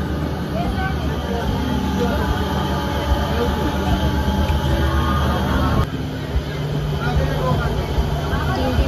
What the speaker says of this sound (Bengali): ছেড়ে দিল আমাদের ট্রেন।